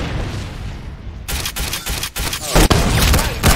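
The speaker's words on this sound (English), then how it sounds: "I just got a headshot on you, buddy" Gunfire in the Roblox shooter Arsenal, a quieter stretch giving way to loud bursts of rapid shots and sharp bangs, close and punchy, with no talk.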